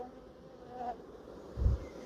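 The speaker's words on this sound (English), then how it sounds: "the wings look a bit battered, so I'm wondering if it's just old bees" Honey bees buzz around a heavy, nectar-laden hive frame during a swarm inspection, a faint steady hum with a brief louder buzz as a bee passes close near the end.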